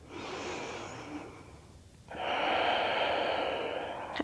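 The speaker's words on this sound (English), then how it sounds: "big breath." A deep yoga breath: a long airy exhale tapers off, a brief pause follows, then a strong, close, sustained inhale-like rush of breath.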